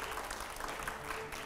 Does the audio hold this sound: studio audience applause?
yes